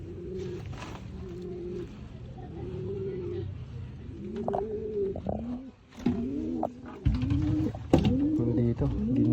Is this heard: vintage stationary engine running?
no